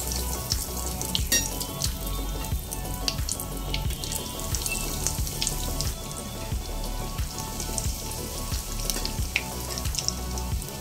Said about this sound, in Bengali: তার একে একে কয়েক পিস ডেভিল তেলের মধ্যে ছেড়ে দেবো।